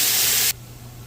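Seasoned pigtail hits hot oil in a pot with a loud, close sizzling hiss that holds for about half a second, then cuts off abruptly to a low background hum.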